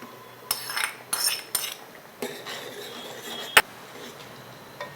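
Tempering added to cooked drumstick leaves and toor dal in a pot, several bright metallic clinks and scrapes of a spoon against the vessel, one sharp clank near the end, with faint sizzling between.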